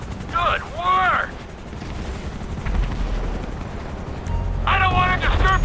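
Helicopter rotor drone in Grand Theft Auto V gameplay during a hostage mission, a steady low thrum running throughout, with voices speaking briefly at the start and the end.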